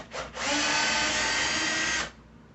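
A power drill driving screws out of a Peavey T-60 electric guitar, one steady whirring burst of about two seconds, close and loud, preceded by a brief spin-up blip.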